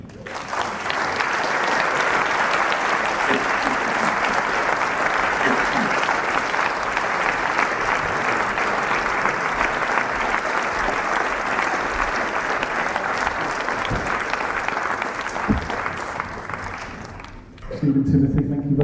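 Sustained applause from a live audience welcoming the Brothers Quay to an on-stage conversation, dense steady clapping filling the room for about seventeen seconds before fading out.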